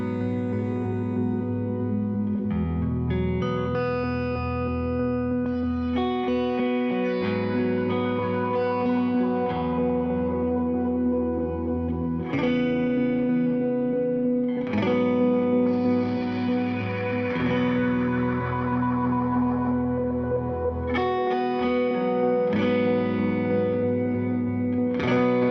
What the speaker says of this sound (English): Let's see what just a little bit of reverb sounds like.